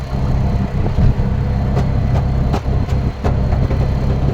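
An auto rickshaw engine runs steadily while crossing the Wadkhal highway bridge on NH66, a loud, close droning rumble with a few brief bumps and rattles along the way, no voices.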